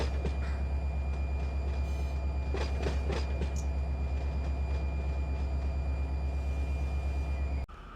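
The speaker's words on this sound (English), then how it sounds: "Looks like we got an intermodal train coming through." Intermodal freight train rolling past in the Run8 Train Simulator, a steady heavy rumble with low engine drone and faint metallic rail clatter, constant and fairly close, ending abruptly near the end.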